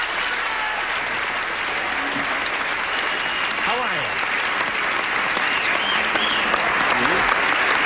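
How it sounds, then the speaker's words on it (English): Studio audience at a game show applauds steadily, a dense wash of clapping that runs the whole time while a voice speaks briefly over it. "we give a brief, polite round, but heartfelt round of applause to the two new kids on the block"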